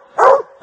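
A hunting dog, one of a pack with pups, gives one loud close bark, then a second bark begins at the very end.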